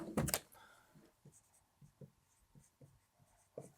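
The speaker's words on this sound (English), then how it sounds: "We'll write down nickel." Pen writing a word on paper at a table, a short burst of scratching followed by several soft, close strokes, with no talk over it.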